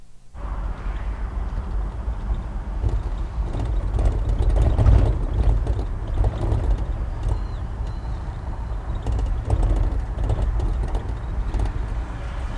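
Cabin sound from inside a rough-riding truck driving with its windows open: a steady low engine rumble with wind buffeting and rattles, fairly loud and continuous.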